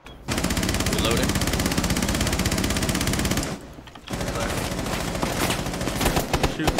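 Rapid automatic gunfire in Rainbow Six Siege, shooting through a wall: a loud, continuous burst runs for several seconds, breaks briefly, then resumes with more shots.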